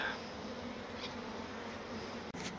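Steady buzzing from many honeybees around a hive after being smoked off the comb, a continuous low hum with no voices, close and fairly even throughout.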